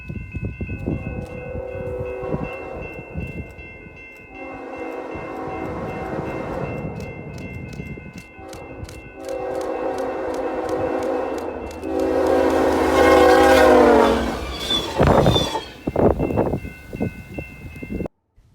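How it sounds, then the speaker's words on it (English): BNSF 4205 leads a company geometry train east through snow, its horn sounding in several long blasts over the rumble of the passing locomotive and cars, loud and close. "BNSF 4205 kicks up snow as it leads one of the company geometry trains east through"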